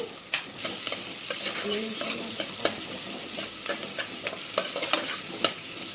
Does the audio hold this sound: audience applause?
no